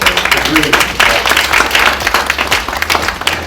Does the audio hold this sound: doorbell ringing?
no